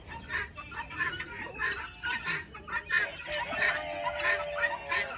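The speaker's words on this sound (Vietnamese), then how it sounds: "Ủa con gà này con gà gì đâu phải con gà ri đâu" Chickens on a farm cluck repeatedly in short, rhythmic bursts, fairly close and moderately loud, with no one speaking over them.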